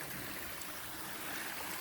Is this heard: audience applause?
no